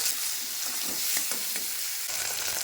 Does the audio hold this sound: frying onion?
yes